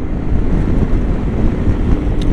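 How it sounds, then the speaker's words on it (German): Steady, heavy wind rumbling and buffeting against the microphone while riding a Yamaha Tricity 300 scooter in Franconian Switzerland, a continuous low roar with no voices. "ganz schön windig jetzt wieder hier oben"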